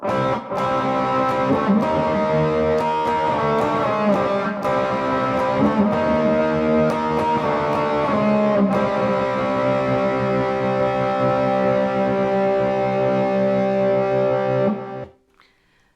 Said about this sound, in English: Little bit of distortion, but the kind we like.